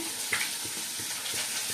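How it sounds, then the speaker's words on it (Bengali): Fish fries in a pan with a constant hiss of hot oil, broken by regular soft stirring or turning strokes about every third of a second. "আর এদিকে মাছটা ভাজছি"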